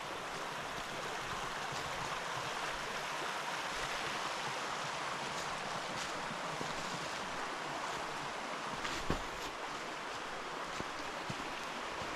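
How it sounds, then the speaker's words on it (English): Hickory Creek flows along a wooded trail, a soft continuous rushing of water with a faint breezy hiss and no breaks. "So here's the creek I was talking about a few minutes ago."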